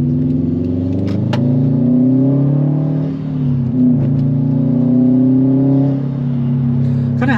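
A 2020 Subaru WRX STI engine and exhaust drone steadily from inside the car on the move, a loud, low harmonic note that dips briefly and then holds, with no talk over it.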